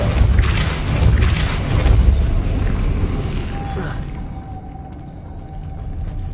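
A Depulso spell goes off in Hogwarts Legacy as a dense, rumbling whoosh with a low boom that fades after a few seconds, leaving a quieter game ambience with a faint tone.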